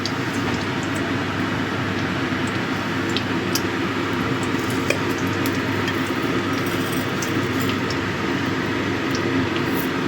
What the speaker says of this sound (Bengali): এবার এই তেলের মধ্যে দিয়ে দেবো পাঁচফোড়ন।